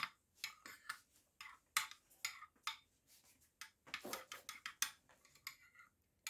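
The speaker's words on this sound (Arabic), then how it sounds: "ونبدا نقلب المكونات بتاعتنا دي" A spoon stirs mustard, sugar and other ingredients for a homemade McDonald's-style sauce in a bowl, giving quiet irregular clinks and scrapes with short gaps between them.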